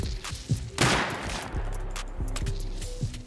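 Auto-turrets firing in a raiding video game, a rapid series of sharp shots in irregular bursts over a low rumble, with one heavier blast early on.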